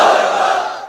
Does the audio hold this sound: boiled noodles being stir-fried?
no